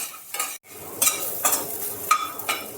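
Raw banana sizzles quietly in a pan of hot oil, with a few scraping stirs of a spatula and light clinks of metal breaking the soft frying hiss.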